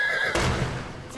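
A frantic desert stallion lets out a loud, close whinny, a high quavering cry that breaks into a rough, breathy burst and then fades under a steady background rumble.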